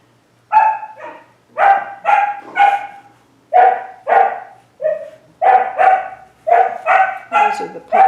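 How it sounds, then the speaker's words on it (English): Very young puppies bark playfully in bright, high, repeated bursts, loud and close, in short clusters with brief pauses throughout. "Those are the puppies that were born in October."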